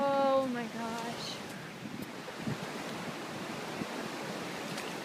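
Floodwater rushing along a submerged path as someone wades through it, a broad steady roar of flowing water with wind buffeting the microphone; a brief exclamation of surprise opens the stretch.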